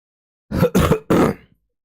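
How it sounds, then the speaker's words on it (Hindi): Three harsh, close coughs in quick succession, each a short raspy burst, with silence before and after. "आज तुम लोग खांसी खोखो केकी सुनते रहोगे आज मेरे से।"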